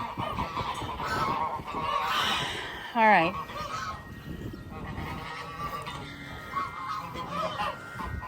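A goose on a flooded Texas farm lets out a single short, loud honk right near the recorder midway through, between stretches of someone speaking softly and faint background noise.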